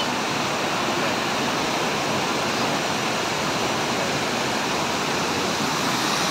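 Tagunon Falls in Agusan del Sur, a waterfall and bathing spot, pouring in a loud, dense, unbroken roar of rushing water that fills the whole clip, close and steady with no voices.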